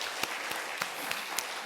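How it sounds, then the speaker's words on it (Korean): A congregation at a Sunday church service gives a round of applause to God, a soft, continuous patter of many hands heard from a distance, with a few louder claps standing out. "우리 하나님께 영광의 박수 올리고요."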